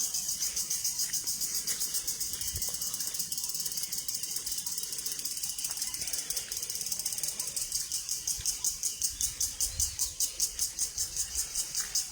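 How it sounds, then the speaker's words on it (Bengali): Crickets chirping before sunrise on an empty road, a steady high pulsing trill that carries throughout, loud and continuous with faint low background rumble. "ঝিঝি পোকার ডাক শোনা যাচ্ছে"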